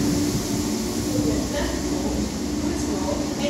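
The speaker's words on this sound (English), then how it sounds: "Class 197 train that is" A Northern Class 197 passenger train heading to Manchester Piccadilly passes at Stockport with a loud, close, continuous rumble of wheels and motors. There is no clear talk over it.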